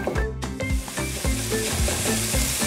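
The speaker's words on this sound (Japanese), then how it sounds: "中火ぐらいでフライパン温めながら肉も一緒に こうやってよくこぶしながら火を入れていく" Pork sizzling in a frying pan over medium heat, rendering its fat while being stirred and tossed, with a steady close crackle and repeated low scraping pulses from the stirring.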